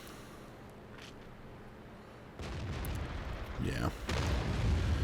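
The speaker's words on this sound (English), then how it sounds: "And there's the artillery, like I told you." Artillery shells from a World of Tanks battle land in loud booming bursts during the second half, following a quieter stretch of engine rumble, with a brief voice heard over the action.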